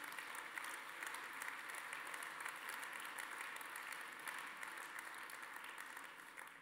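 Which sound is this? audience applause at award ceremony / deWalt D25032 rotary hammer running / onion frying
audience applause at award ceremony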